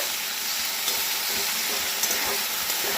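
A thick poppy seed paste with green chillies fries with a constant hiss and sizzle, with faint scraping strokes of stirring running underneath.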